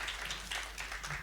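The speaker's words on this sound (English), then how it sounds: "A very, very big round of applause for Mr. Batra." Audience applause at a foundation day conference on valuation, a steady patter of many hands clapping for about a second, moderately loud with no voices.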